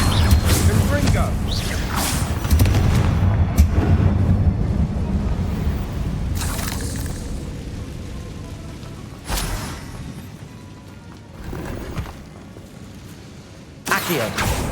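Spell blasts from the Confringo fire spell in the video game Hogwarts Legacy, several loud bursting whooshes and crashes spread through the stretch, with a sharp burst near the end, all layered over busy game sound and voices.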